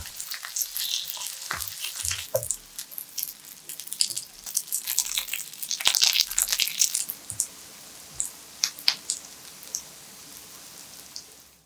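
Shrimp and rice cake pancakes sizzling and crackling steadily in a hot frying pan, a dense hiss with scattered sharp pops and no voices.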